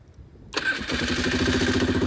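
A Polaris engine, on a new Napa battery with the choke up, cranks briefly and catches at once, then settles into a loud, steady, close idle with a rapid rhythmic chug.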